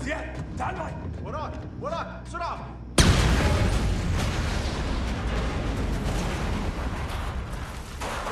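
Demolition charges pre-wired in trailers go off in a sudden huge blast that cuts through voices, followed by a sustained roaring rumble of debris and fire.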